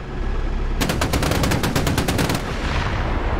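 An air defence gun in the DCS combat simulator fires in one rapid, continuous burst of evenly spaced shots lasting about a second and a half. The burst is loud and sounds close, with a rumbling background before and after it.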